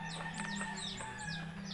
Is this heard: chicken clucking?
yes